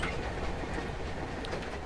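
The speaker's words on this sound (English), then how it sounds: "it's the brake rub on these wagons." Brake rub on freight wagons hauled by a BR Class 56 locomotive on the Hastings Line, a steady rushing rumble with a faint grinding hiss as the wagons roll past nearby.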